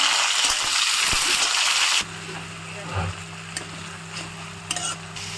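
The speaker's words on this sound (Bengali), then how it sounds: "টমেটোগুলো একটু ভাজবো।" Tomatoes frying and being stirred with spices and bay leaf in a pan for khichuri, a sizzling hiss that drops to a quieter steady fry midway, with occasional scraping clicks of the stirring utensil.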